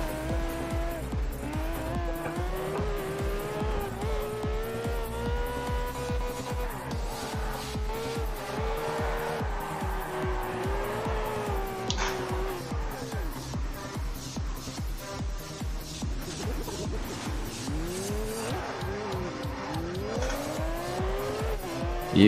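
A Lamborghini drifts in Test Drive Unlimited, its engine droning steadily while tires squeal in long, wavering wails that rise and fall across the whole stretch, with no voices over it.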